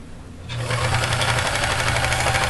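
A sewing machine stitching the front of a lined skirt starts after a brief quiet moment and runs in a close, steady, rapid mechanical chatter to the end.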